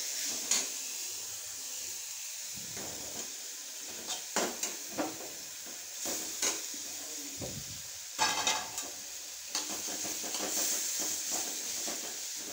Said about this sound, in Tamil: இப்போ இதை நல்லா வதக்கிட்டு அந்த மசால் வாடை இருக்கக்கூடாது